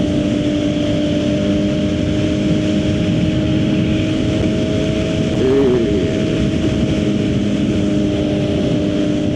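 Suzuki GSX-R 750 motorcycle cruising, a loud, steady engine drone with heavy wind rush, holding an even pitch throughout.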